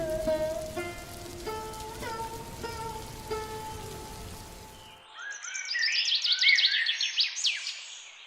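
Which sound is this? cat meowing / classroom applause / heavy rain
heavy rain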